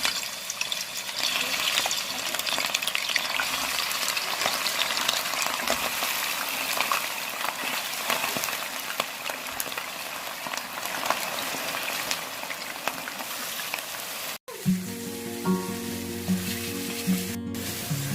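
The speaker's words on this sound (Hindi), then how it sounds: "मटन का कलर चेंज होने तक तेज़ आंच पे फ्राई करेंगे।" Mutton pieces frying over high heat in hot oil in a karahi for Peshawari mutton karahi, a steady loud sizzle that runs continuously, then cuts off near the end and gives way to quieter clanks and lower sounds.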